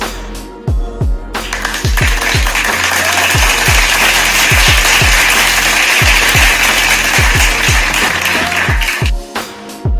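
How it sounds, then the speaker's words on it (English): Clapping for a podcast guest at the close of an episode, dense and loud near the microphone, with heavy thumps of handling noise throughout before it thins out near the end. "Let's give a round of applause for our guest."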